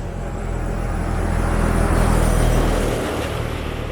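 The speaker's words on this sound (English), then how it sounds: "here comes a truck" A truck drives past on a residential street, its low engine rumble and tyre roar building to a close, loud peak and then tapering off.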